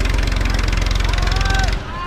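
A tractor stuck in mud during off-road driving runs with a loud, rhythmic low engine throb that holds steady before dropping off suddenly, with voices audible over it.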